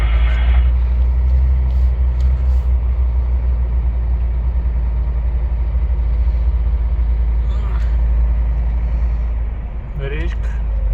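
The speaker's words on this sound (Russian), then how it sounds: "по встречке машина пошла" A car passes in the oncoming lane on a road near Naberezhnye Chelny, heard from inside a moving vehicle over a steady low engine and road rumble, with a brief whoosh near the end.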